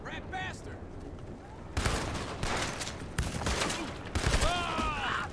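Rapid bursts of gunfire crackle up close in Red Dead Redemption 2, with sharp clustered shots and background electronic sounds, a voice speaking faintly underneath.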